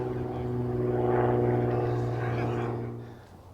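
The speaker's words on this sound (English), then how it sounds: "And a few airplanes." A propeller airplane passes overhead outdoors near water, its low droning engine hum swelling to a peak mid-pass and then fading away, with no talk.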